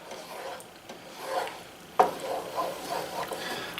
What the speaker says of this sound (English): So now I'm stirring 2 things at once.